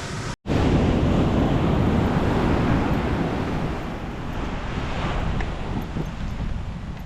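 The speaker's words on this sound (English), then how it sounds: "Looking at the beach." Ocean surf washes onto a beach, a loud continuous rushing roar mixed with wind buffeting the microphone, swelling slightly and steady from just after a brief dropout at the start.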